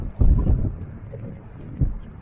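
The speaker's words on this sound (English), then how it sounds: "It's that bloody windy." Strong wind on a beach at Blackpool buffets the microphone in low, rumbling gusts, loudest at the start and again near the end.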